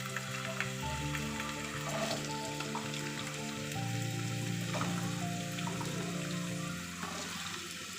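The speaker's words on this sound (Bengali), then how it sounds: "এবার আমি আস্তে আস্তে করে আলুগুলোকে তেলের মধ্যে দিয়ে দেবো।" Potato pieces for aloo posto go into very hot oil and fry with a steady, close sizzle, while a tonal hum of background music runs underneath throughout.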